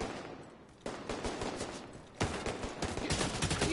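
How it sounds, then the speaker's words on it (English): Continuous gunfire from The Division video game, dense and fairly loud, with bursts that intensify midway and keep going without a break. "You're shooting all willy-nilly!"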